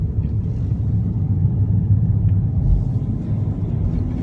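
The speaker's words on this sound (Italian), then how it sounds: "Adesso siamo in una strada in salita, assaggiamo le doti di spinta del motore." A Hyundai i CRDi with a 110 hp diesel engine pulling up a steep hill, heard from inside as a steady, loud low rumble that holds constant throughout.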